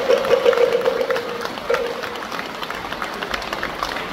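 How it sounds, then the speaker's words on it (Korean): Hall audience at a Buddhist dharma assembly clapping in praise of a visiting monk, moderate applause rising early and thinning out, with a brief tone or voice near the start. "찬탄의 박수 한번 부탁드립니다."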